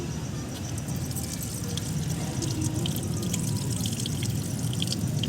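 Steady splashing of water poured out and pattering onto a hard rooftop surface, continuous and moderately loud, with outdoor background noise.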